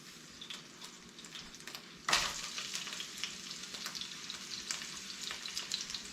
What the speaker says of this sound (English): it's time to immediately throw our onions on there.